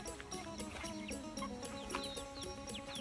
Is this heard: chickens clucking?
yes